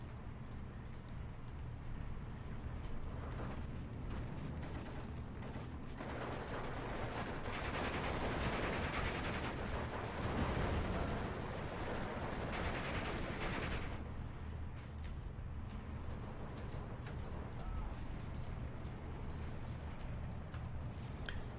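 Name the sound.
mortar strikes and gunfire in video game Steel Division 2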